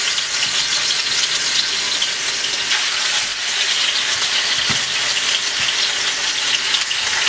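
Rui fish pieces, marinated with turmeric, chili and salt, frying in hot oil in a pan, giving a loud, continuous, even sizzle and bubbling hiss close up, with a faint knock or two and no speech.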